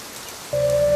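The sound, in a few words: rain on a quiet morning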